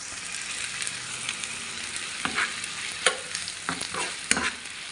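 Onion and tomato fry in a pan with turkey ham, making a continuous hiss of sizzling oil broken by several sharp scraping stirs of a utensil against the pan, fairly close and with no talking.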